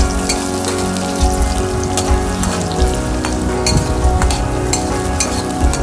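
Finely chopped green chillies sizzle and sauté in hot oil with garlic in a pan, a steady loud crackling fry with spoon stirring throughout, no voices.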